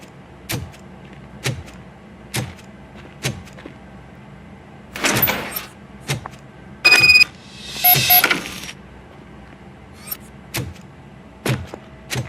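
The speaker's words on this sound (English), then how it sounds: "Now let me get that door open for you." A door opening in the Robocop video game: a mechanical whir and clank in the middle, set among regular sharp metallic ticks or footfalls that repeat at a steady pace against a low hum.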